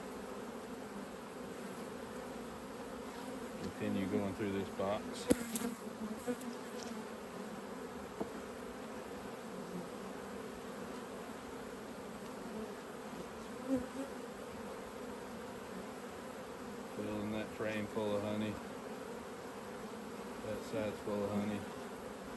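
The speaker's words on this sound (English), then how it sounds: "It is a full hive of bees, that's for sure." A full hive of honeybees hums in a steady, dense buzz with louder swells as frames of capped honey are lifted from a super, while someone talks quietly over the drone.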